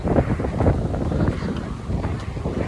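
Strong storm wind gusts during a violent thunderstorm with rain and blowing dust, roaring as loud, continuous buffeting rumble against the microphone throughout.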